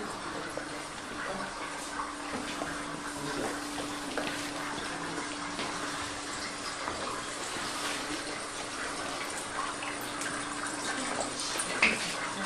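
Steady rushing, gushing water runs continuously at a moderate level, evoking walls of water around a Red Sea crossing scene at a Passover event, with no talk over it.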